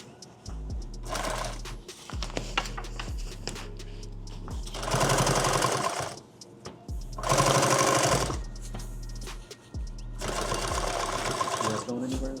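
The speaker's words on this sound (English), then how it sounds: "I'm actually going to sew it from the other direction" A sewing machine stitches a large bag in three long runs, its rapid mechanical chatter loud and close, separated by pauses with handling noises and a person talking.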